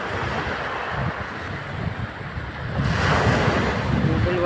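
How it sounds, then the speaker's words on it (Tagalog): Strong sea waves surge and roar continuously in darkness at night, a dense, loud wash of surf mixed with buffeting wind noise and no clear breaks. "Malakas ang alon niya."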